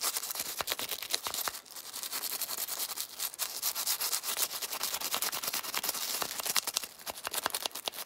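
A brush scrubs old Hoppe's solvent from inside a Smith & Wesson Combat Magnum revolver frame, giving a steady, close rasping rub of quick bristle strokes that keeps going without pause.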